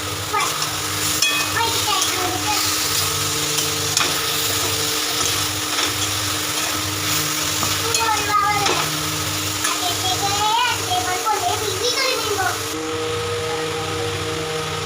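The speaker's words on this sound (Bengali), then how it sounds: "এই সেদ্ধ করা চিকেনগুলোকে দিয়ে আমি আবার একটু কষাবো" Boiled chicken pieces stirred and fried in curry masala for a Bengali culvert chicken curry, with steady sizzling and frying and the scrape of stirring running throughout at close range, under a faint low hum.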